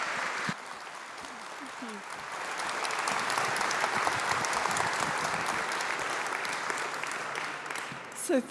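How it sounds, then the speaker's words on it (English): Warm audience applause at a technology conference in Budapest as a speaker is welcomed on stage, building after a brief pause into steady, full clapping that holds until a few loud claps near the end. "you're going to give her a huge, really welcoming, warm round of applause"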